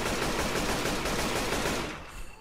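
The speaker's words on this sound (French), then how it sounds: "Non, mais il y a une mitraillette, le Dédé, là." Submachine gun in the video game Left 4 Dead 2 firing a sustained rapid burst, loud and dense, then cutting off with a short fading tail.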